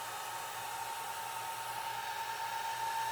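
A blow dryer blows steadily and evenly over alcohol ink being shaped into roses, a constant close whoosh with a faint hum and no talk.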